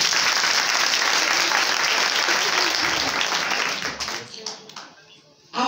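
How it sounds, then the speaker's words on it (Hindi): Congregation at a Christian spiritual awakening seminar in Yavatmal clapping loudly and steadily for Jesus Christ, dense applause that thins into scattered claps and fades near the end before a brief swell. "बोलो यीशु मसीह की जोरदार ताली बजाएंगे।"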